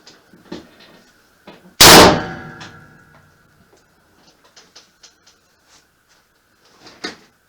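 A homemade gun fires a single loud, sharp shot with a ringing decay. Faint mechanical clicks and handling knocks come before and after it, with no talk.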